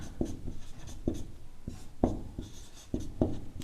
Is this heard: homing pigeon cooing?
no